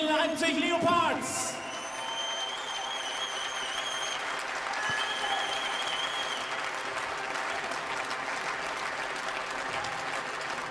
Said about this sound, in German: verabschieden beide Athleten aus dem Ring mit einem großen Applaus